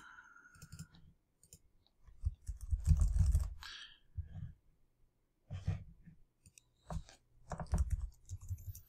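A computer keyboard that seems to be failing clatters in irregular bursts of quiet clicks and taps, with pauses between runs of keystrokes and faint breathing nearby.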